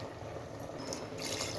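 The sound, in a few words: water being poured into a cooking pot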